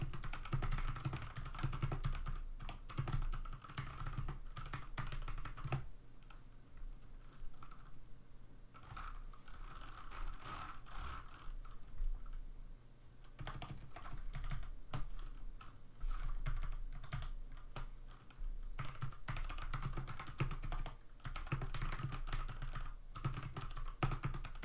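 Typing on a Velocifire VM02WS mechanical keyboard with MX Brown clone switches: a close, steady stream of clacky keystrokes. Brief pauses break up the continuous bursts.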